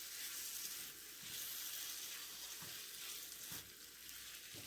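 A fried egg with dry chili powder sautés in a pan, a soft, continuous sizzle with periodic stirring scrapes, quiet and alone.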